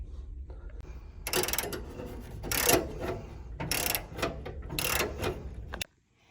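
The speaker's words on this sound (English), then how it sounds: "essentially we're going to be using a deep socket. It really needs to be deep in order to reach this one, and this size is 1/2 inch" A deep 1/2 inch socket on a ratchet working a gas orifice loose on an Alfresco barbecue, heard as several bursts of close metallic clicking and scraping with short pauses between them.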